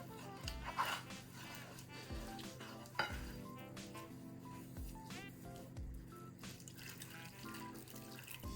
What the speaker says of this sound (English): Bit of whisk. Which is easier than with a spoon.